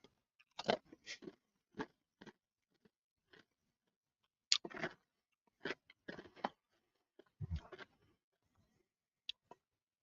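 Crunching and chewing of Lay's kettle cooked chips in the NFL Cheesy Buffalo Dip limited edition flavor, a run of close, sharp bites and crackly chews separated by short pauses, with no talking.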